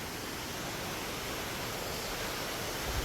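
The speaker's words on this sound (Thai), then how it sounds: "อันนี้ก็จะเป็นน้ำตกนะ" A mountain waterfall in Switzerland gives a steady, dense roar of rushing water, broad and unchanging throughout, with a faint bump near the end.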